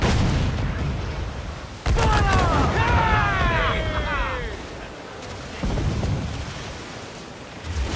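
Ship cannons boom in the pirate game Assassin's Creed Black Flag, a sudden heavy blast followed by a rolling roar, with sea and wind noise around it and a second thud a few seconds later.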